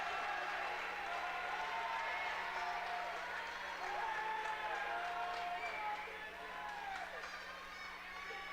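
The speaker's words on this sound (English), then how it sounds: "getting the crowd fired up." Crowd at a high school wrestling match cheering and clapping, a steady broad roar filling the gym, with a commentator talking over it.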